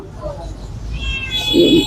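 A white Persian cat at a pet animal market gives a single short meow near the end, heard amid background talk and market noise.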